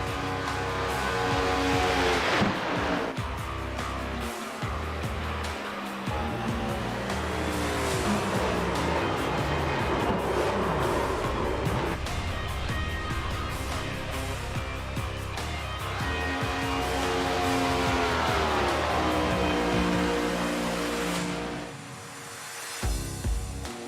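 NASCAR Cup cars roaring around Circuit of the Americas in iRacing, a loud, continuous engine drone rising and falling in pitch as the cars accelerate and shift, with no voices.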